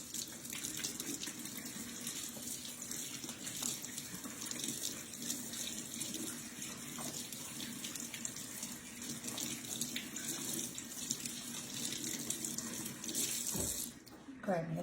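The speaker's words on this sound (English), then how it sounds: "give my hands a little bit of a rinse" Kitchen faucet water runs steadily while hands are rinsed under it, a faint continuous splashing hiss with a brief clatter near the end.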